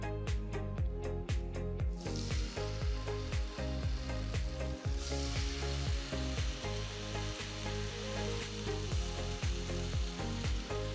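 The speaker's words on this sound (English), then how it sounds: "So now we're going to fry the fish." Fish pieces frying in coconut oil in a pan, a steady close sizzle with crackling pops, and background music running throughout.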